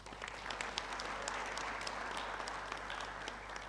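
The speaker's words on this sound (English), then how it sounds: "So can I request that we give Ambassador Makaya a round of applause?" An audience at a graduation ceremony breaks into steady applause, a dense spread of many hands clapping at moderate distance and holding throughout with no talking.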